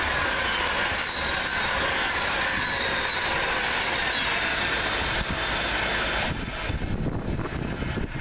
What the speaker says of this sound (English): The next Pendolino's heads north